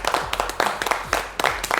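Applause from a studio audience paying tribute on a French-language variety show, heard as loose bursts of claps from a smallish group, fairly close and uneven.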